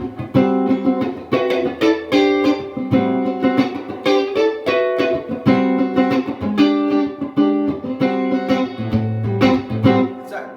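A funk-style minor pentatonic lick on electric guitar, played as quick choppy phrases of bright notes and chord stabs in a steady groove, close and clear with no talking over it.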